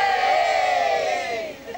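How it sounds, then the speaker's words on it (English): A crowd of people cheers and shouts together in a loud, sustained roar that fades slightly toward the end, led on by a man addressing them. "Let's see you all cheer for me, eh?"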